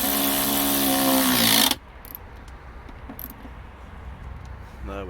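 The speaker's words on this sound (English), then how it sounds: "Just going to get it started by hand before the battery ratchet comes out." A battery ratchet drives a 10mm bolt on a car being refurbished, giving one loud continuous whirring burst of under two seconds that then cuts off abruptly to near quiet, with faint clicks afterwards.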